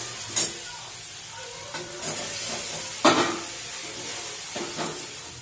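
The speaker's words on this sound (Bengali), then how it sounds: "ডিমটা ভাজতে বসিয়েছি" An egg frying in a pan in a home kitchen: a soft, steady sizzle broken by several sharp scraping and stirring clicks.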